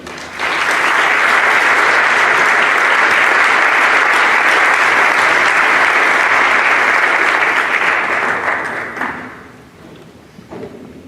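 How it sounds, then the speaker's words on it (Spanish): Loud, sustained audience applause in a hall at a city gold medal award ceremony in Jaén, dense and even for about nine seconds before tapering off quickly into near silence. "Un fuerte aplauso."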